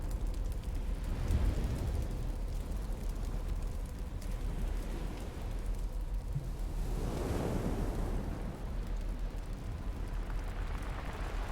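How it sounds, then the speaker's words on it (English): Steady ocean surf on a beach at night beside a small campfire, a continuous broadband wash with slow swells rising around the middle, alone with no voices. "I hope that you enjoy our little campfire on the beach and listening to the waves."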